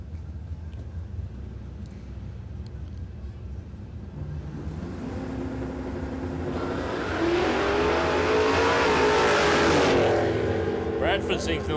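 Toyota Hilux ute launching hard off the start line at a drag strip: the engine revs climb and swell into a loud, sustained roar, with the tyres squealing as it pulls away.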